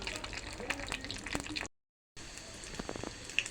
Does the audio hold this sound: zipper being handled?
no